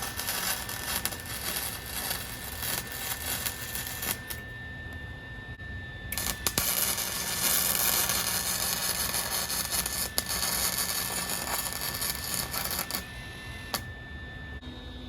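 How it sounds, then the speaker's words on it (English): A MIG welder, with the wire feed giving trouble, joins steel on a metal security gate for a garage, making a continuous harsh crackling hiss that swells louder in the middle and is cut by brief gaps, with no talking. "But for now I'm gonna weld it up on this end here."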